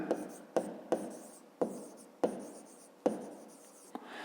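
Pen strokes on paper while working a fifth-grade maths exercise: a series of short, distinct scratchy bursts, about seven in four seconds, close and fairly quiet, with no talking.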